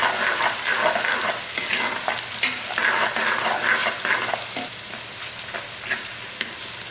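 Chopped onion hitting hot oil for mutton fry, a loud close sizzle with busy stirring and scraping in the pan that eases toward the end, no voices.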